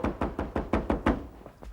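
Repeated knocking on a door, about eight firm, evenly spaced raps in quick succession, close and loud with no voices over them, in a Hindi horror drama scene.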